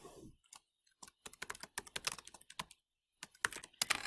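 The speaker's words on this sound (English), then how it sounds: "So I'm going to type that here." Close, quiet typing on a computer keyboard while entering text into a spreadsheet, irregular bursts of crisp key clicks separated by short pauses.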